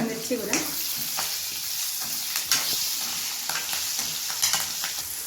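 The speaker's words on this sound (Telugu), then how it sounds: "కాకరకాయలు కాస్త కట్ చేసుకొని ఫస్ట్ ఆయిల్లో సపరేట్గా డీప్ ఫ్రై చేసుకోండి" Cut bitter gourd pieces deep frying in oil, giving a steady, close bubbling sizzle with scattered soft crackles and stirring clinks, at moderate level and without speech.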